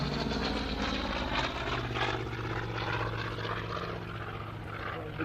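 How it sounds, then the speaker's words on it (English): Bristol Centaurus radial engine of a Hawker Sea Fury FB11 flying at an air display, a steady throaty propeller drone heard at a distance, fairly faint and continuous throughout. "Wonderful throaty sound there of the Bristol Centaurus engine in the Hawker Sea Fury."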